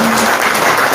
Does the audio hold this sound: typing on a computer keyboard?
no